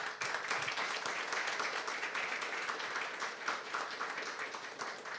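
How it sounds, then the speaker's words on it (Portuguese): Applause from a talk-show audience, a steady wash of clapping held at a moderate, fairly distant level for the full stretch without a clear break. "Salva de palmas."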